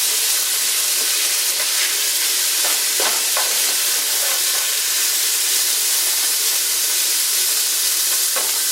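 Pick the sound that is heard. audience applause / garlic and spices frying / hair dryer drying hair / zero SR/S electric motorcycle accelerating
garlic and spices frying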